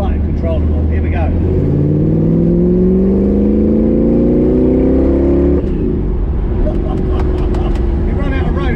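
A supercharged 1966 Ford Mustang Fastback 350GT Trans Am clone with a race-prep gearbox accelerates hard, its engine note rising steadily, then dropping at a gear change and climbing again, loud and close from inside the car.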